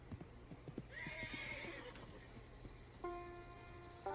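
A horse in the video game Red Dead Online gallops with quick clip-clop hoofbeats and lets out a loud, drawn-out whinny, followed by a second, shorter neigh near the end.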